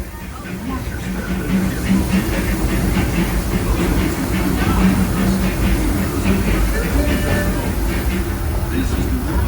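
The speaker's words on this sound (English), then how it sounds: "Please remain seated until the train comes to a complete stop." A Disneyland Railroad passenger train rolls into New Orleans Square Station, giving a loud, continuous close rumble with hissing and faint wheel clatter throughout, while a voice speaks softly underneath.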